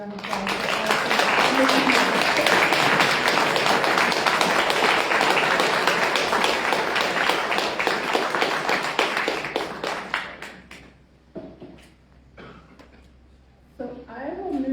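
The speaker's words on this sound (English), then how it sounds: "let's give her a big round of applause" Sustained, loud audience applause at an awards picnic fills the room for about ten seconds, then fades to scattered claps and quiet before a brief swell.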